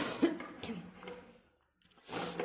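A person suffering from a cold coughs in short, close bursts, with a quiet pause between them and breathy sounds trailing off.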